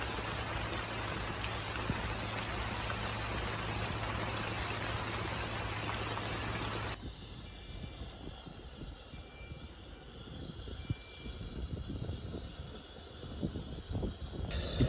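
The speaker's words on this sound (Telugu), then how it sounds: "ఇప్పుడే వర్షం అయితే కొద్దిగా తగ్గింది." Steady light rain falls outdoors in a constant hiss that drops noticeably midway and continues more softly and patchily as the shower eases off, with no voices.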